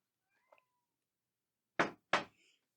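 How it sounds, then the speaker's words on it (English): A house cat meows twice, fairly close and clear, two short cries in a row after a faint small knock or tick, in an otherwise quiet indoor room. "And my cat's going to meow as well."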